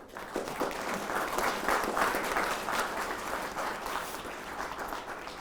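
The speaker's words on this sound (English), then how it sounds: "So please join me in giving them both a round of applause." Sustained applause from an audience at a book launch and discussion, steady and moderately distant, filling the whole stretch without a break.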